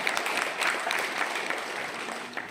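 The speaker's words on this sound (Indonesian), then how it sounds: "Boleh tepuk tangan lagi buat saya." A crowd applauds, a dense burst of clapping that holds steady and then tapers off slightly.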